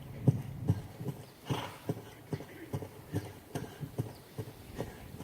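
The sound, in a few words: horse hooves while being ridden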